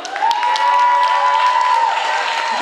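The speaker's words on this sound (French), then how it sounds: "On les applaudit bien fort." An audience at the Manga Days 2007 convention claps and cheers for a cosplay group, a continuous wash of applause with a sustained high whoop riding over it, alone without talk.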